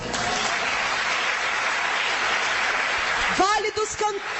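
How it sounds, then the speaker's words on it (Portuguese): A church congregation applauds in a dense, steady wash of clapping for most of the stretch, then a voice begins speaking over it near the end as the clapping thins. "Aplauda Jesus."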